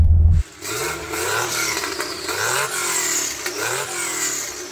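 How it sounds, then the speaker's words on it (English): Porsche 911 Turbo with a straight-through aftermarket exhaust revs hard several times after a short startup burst, rising and falling engine pitch, loud and close, with no talk over it. "So Becky, do you mind revving it up so we can hear it?"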